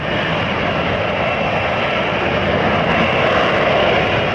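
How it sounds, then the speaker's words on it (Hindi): Steady, loud roar of a single-engine F-35 fighter jet, a continuous broadband engine rumble holding constant throughout with no voices. "सिंगल इंजन और सिंगल सीट वाला ये जेट इतना ताकतवर है कि किसी भी मौसम में उड़ान भर सकता है"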